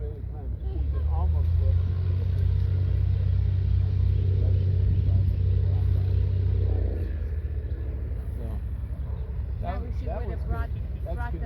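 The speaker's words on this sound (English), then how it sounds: "You can hear that prop from here as he pushes it in for what I think is going to be a landing" Low droning engine rumble of a Luscombe Phantom light propeller plane coming in to land at Columbia, California, swelling then easing as it passes nearby, with people talking over it toward the end.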